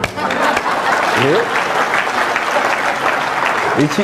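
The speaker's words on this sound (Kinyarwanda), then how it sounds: "Twagihaye amashyi nacyo di." A crowd applauds at a live stand-up comedy show in a steady, dense wash of clapping, with brief voice fragments poking through.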